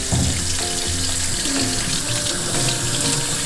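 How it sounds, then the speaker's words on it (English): Hands being washed under a running kitchen tap before baking, a steady close rush of water splashing into the sink with small shifts in the flow, no voices. "And remember, let's wash our hands first."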